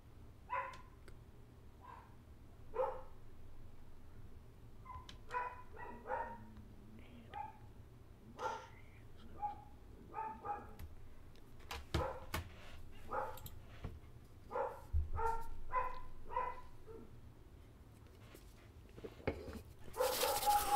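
A dog indoors gives a run of scattered short barks and yips, faint and somewhat distant, spread irregularly across the stretch with quiet gaps and some low background noise.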